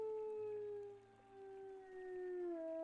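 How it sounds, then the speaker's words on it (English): A wolf in WolfQuest gives a long, sustained howl that slowly glides down in pitch, clear and close, with a brief dip in the middle before it swells again and drops at the end. "we're gonna sit here and howl a few times."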